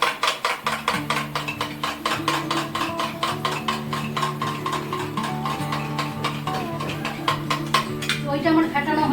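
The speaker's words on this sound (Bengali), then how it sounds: "ভালো করে চামচ দিয়ে ফেটাবো এটাকে" A spoon whisking yogurt in a bowl, a fast steady run of bright clinking taps close up, with a faint low hum beneath.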